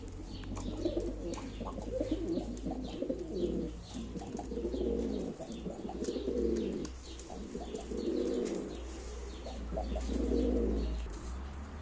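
Play pigeons at a live pigeon auction coo in repeated soft, rolling phrases over a steady low background hum, with occasional faint chirps.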